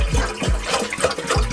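Water poured from a bottle onto someone's feet outdoors, heard close as a series of short gurgling splashes and glugs in uneven bursts.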